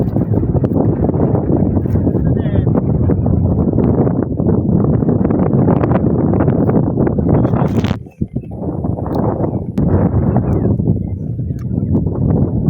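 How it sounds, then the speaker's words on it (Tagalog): Strong outdoor wind buffeting the microphone near a windmill, a loud continuous roar with gusty swells and a brief sharp drop midway. "Lakas ng hangin dito,"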